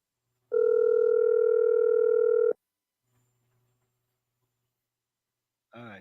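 A telephone dial tone sounds steadily for about two seconds while a call is being placed, then cuts off into near silence, followed by a brief burst of touch-tone or ringback sound at the end.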